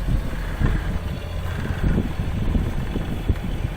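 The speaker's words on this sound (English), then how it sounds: "It's still pretty breezy." Strong breeze of around 15 knots rushes steadily over a sailing boat on open water between Mayotte and Kenya, a constant loud roar of wind with slight gusting.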